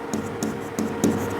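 A pen writing on paper while a maths problem is worked out by hand, four short scratchy strokes in a steady rhythm, heard close and quiet with no talking.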